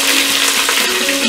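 Bay leaf, cardamom and green chillies sautéing in hot oil in a pan, a loud, steady close-up sizzle that fills the short moment without pause.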